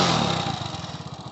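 An old motorcycle engine cranks and fires, a loud initial burst settling into a rapid, even, thumping idle close by with no voices.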